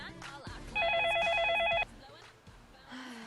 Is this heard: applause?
no